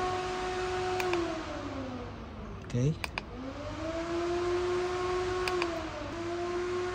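An auxiliary radiator cooling fan runs on a Toyota FJ Cruiser, a steady whirring drone with a low hum that holds through the clip, briefly dipping and restarting as it is switched, with a short spoken word once.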